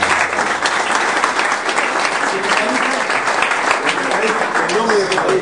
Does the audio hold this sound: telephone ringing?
no